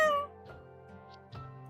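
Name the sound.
cat meowing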